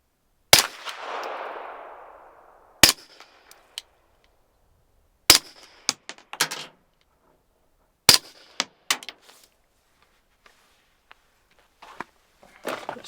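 A Flux Defense Raider Odessa 9 fires suppressed rounds at a range, one louder supersonic crack first, then several sharp subsonic shots with mechanical clacks from the action cycling, spaced apart amid quiet.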